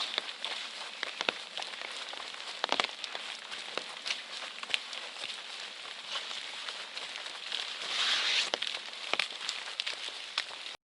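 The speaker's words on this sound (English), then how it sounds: "it's just going to rain like that for hours." Steady rain patters across a wilderness lake, a soft continuous hiss with scattered distinct drops close by and no voices.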